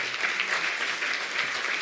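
An audience at the Geneva Challenge 2017 awards ceremony gives steady, even applause, a dense continuous patter of many hands at moderate distance with no voices over it.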